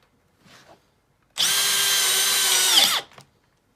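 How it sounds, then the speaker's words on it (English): A Makita XPH07 brushless drill drives a screw into a pre-drilled hole in concrete, a loud, close whine lasting about two seconds that bogs down in pitch just before stopping, with faint handling noises before and after. "now we'll drive it in with the brushless Makita XPH07"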